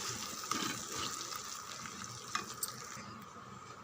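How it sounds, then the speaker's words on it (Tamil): Pepper spice powder being stirred into milagu kuzhambu in a pot: continuous soft scraping and stirring over a gentle bubbling sizzle, close and quiet, with a few light clinks and no talking. "இங்கே பாருங்கள், இதை நல்லா கலந்து விடுங்க."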